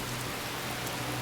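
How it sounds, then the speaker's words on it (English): Steady rain from a weather mod in Fallout 4 pours without a break, a dense, even hiss of drops across the whole moment with no voices. "So let's do rain, and then let's do the rain and thunder."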